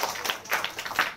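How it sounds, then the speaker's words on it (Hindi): Children clap for themselves in a free village classroom in Jiyapur, Azamgarh, a short burst of quick, uneven claps close by. "अपने लिए ताली बजाओ"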